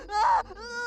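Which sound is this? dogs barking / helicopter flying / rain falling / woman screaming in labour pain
woman screaming in labour pain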